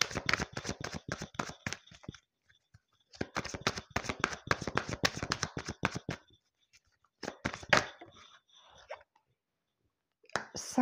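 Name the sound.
tarot cards being shuffled and drawn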